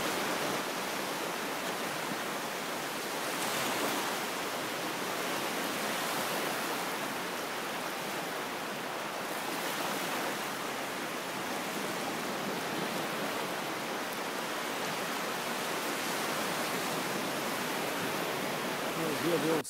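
Incoming tide washing onto the Lunan Bay shoreline, a continuous broad rushing surf wash with gentle swells, steady and fairly loud throughout with no talking.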